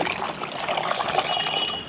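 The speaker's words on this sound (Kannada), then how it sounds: "ಸೊ ನಾನು ನೀರು ಹಾಕಿದ್ದೀನಿ, ಆಲ್ಮೋಸ್ಟ್ 1/2 ಲೀಟ್ರ್ ಇದೆ," Water poured into the bladder of a Raida Ultra Series hydration mesh backpack gives a steady, close trickle and splash of liquid that runs without a break.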